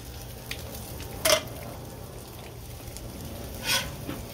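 Eggs frying in a pan for a breakfast dish, a soft, steady sizzle with two brief louder clatters of cookware, no voice.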